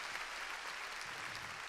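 Congregation clapping during an evangelical church service in Honduras, a dense, steady patter of many hands filling the room with no voices.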